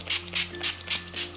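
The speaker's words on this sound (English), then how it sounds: "spraying my face again with this setting spray" Setting spray misted onto a face, about four or five short airy hissing bursts in a steady rhythm, close and fairly quiet, with a faint steady hum beneath and no talking.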